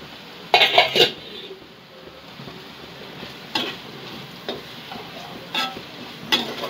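A pot lid is lifted and the pan handled: a few bright metallic clanks, then scattered lighter knocks and scrapes over a soft background hiss, no speech.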